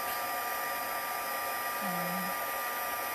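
A heat tool blows a steady, loud whirring hiss as it melts white embossing powder on a card, running continuously with no talk.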